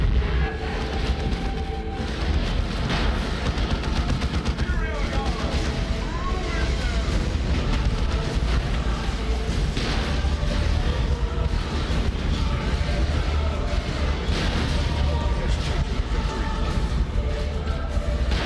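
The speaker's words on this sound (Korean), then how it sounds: "바실리스케 포격 꾸준히 날려주고 있습니다" Basilisk artillery in Warhammer 40k fires a steady barrage of heavy, rumbling blasts in a 3vs3 match, a continuous dense roar under battle noise with someone commentating over it throughout.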